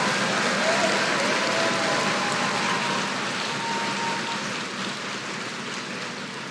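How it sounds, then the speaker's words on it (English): A graduation ceremony audience applauds the graduates with a steady, dense wash of clapping that holds at a constant level before easing off slightly toward the end. "acknowledge these graduates with a wonderful round of applause, please"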